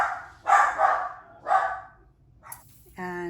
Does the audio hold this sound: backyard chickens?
no